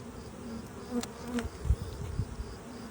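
Honey bees buzz steadily as they are moved into a full-sized hive box, a close, continuous drone with a few louder passes of individual bees.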